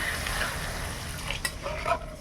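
Water poured into a pan of fried spices hisses and sizzles with a soft stirring scrape, moderately quiet and close, with a few small clinks near the end and no talking.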